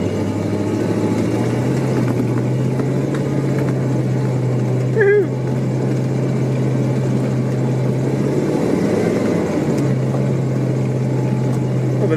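A small Mule utility vehicle in third gear on a snowy road, its engine holding a steady, loud drone close by throughout, with a brief higher rise near the middle.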